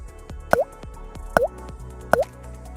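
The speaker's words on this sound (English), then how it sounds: "Simply pour the cleaner into the gas tank." Catalytic converter cleaner poured into the gas tank of a Honda, heard as three distinct liquid drips or plops spaced evenly about a second apart, close and fairly clear over a quiet background.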